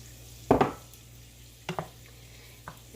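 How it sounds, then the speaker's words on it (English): Shredded cheddar cheese being stirred into a pot of thick grits, heard as three short scraping, squelching strokes that fade in loudness, alone against a steady low background hum. "And stir this all in"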